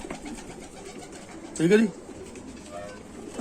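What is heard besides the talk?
Chanda Khani pigeon cooing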